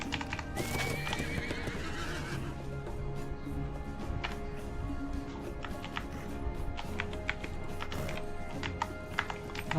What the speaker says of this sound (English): Let's do the war steed.